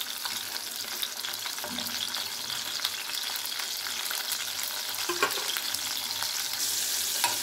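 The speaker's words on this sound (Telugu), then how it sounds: "ఇవి బాగా ఎర్రగా వచ్చేదాకా ఫ్రై చేయాలి." Dry fish frying in a pan until red, a steady dense sizzle and crackle with occasional louder pops, close and continuous with no voices.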